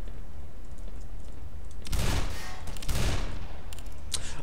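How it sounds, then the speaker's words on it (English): Gunfire from a weapon in the video game Black Mesa, a couple of loud rapid bursts over a steady background hum. "I'm sort of half shooting blindly whenever I use iron sights with this gun."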